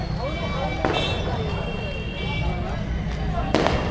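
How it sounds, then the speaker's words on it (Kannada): Firecrackers burst at the Malur Karaga festival at sunrise, two distant sharp bangs about three seconds apart over a steady crowd hum with people talking. "ಆ ಕಡೆ ಪಟಾಕಿ ಸಿಡಿಸ್ತಾ ಇದ್ದಾರೆ"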